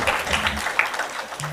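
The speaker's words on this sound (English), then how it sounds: "Round of applause for him." Short burst of audience applause at a session on digital communications, a moderate patter of many hands fading within about a second and a half, with some voices mixed in.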